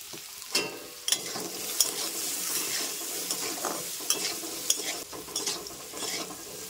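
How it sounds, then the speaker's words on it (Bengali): Steady sizzling of potatoes frying in oil, with frequent sharp clinks and scrapes of stirring against the pan, close up and no voices. "তো আমার আলুগুলো ভাজা হয়ে গিয়েছে লাল লাল করে"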